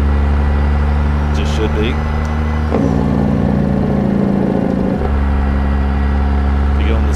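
Heavy truck engine from American Truck Simulator, a deep steady idle rumble with strong exhaust drone, rising to a revving surge in the middle before settling back, with someone talking briefly over it.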